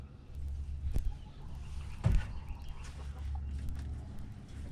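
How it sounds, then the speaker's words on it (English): Rhode Island Red and Barred Rock hens cluck softly in a farmyard coop, a few scattered calls over steady low background rumble, no talking. "We got the good old Rhode Island Red. And then, I think one of the Barred Rocks."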